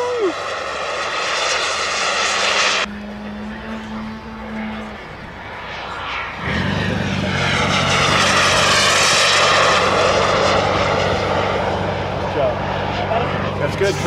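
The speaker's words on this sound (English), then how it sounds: "I somehow even convinced him to do an inverted high alpha pass with his jet" A turbine-powered RC jet makes an inverted high-alpha pass low over the field at an RC flying event, a loud, sustained whining roar that builds and shifts as it goes by.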